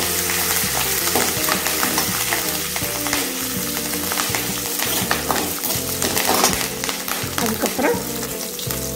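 Green chili, curry leaves and garlic frying in a pan for mint chutney, a loud continuous sizzle and crackle with the scrape of stirring, no voices.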